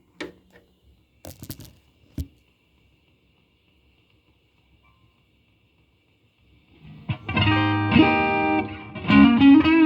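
Electric guitar played through a Fulltone Octafuzz pedal into a Fender Super Champ amp, heard first as a few sparse, sharp plucks followed by silence, then a loud, buzzy run of fuzzed chords and notes ringing out near the end.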